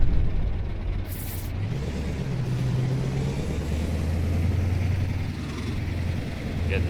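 Modded truck engine in Euro Truck Simulator rumbles low and steady as the rig approaches a roundabout, with a brief hiss like an air brake near the start and the drone holding under the cab.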